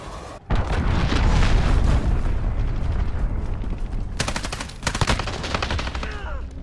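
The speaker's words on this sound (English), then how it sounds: "Allied cruise missile away." Repeated heavy blasts and rattling gunfire from a cruise missile strike in Call of Duty Modern Warfare, a loud sustained barrage with sharp bursts near the end.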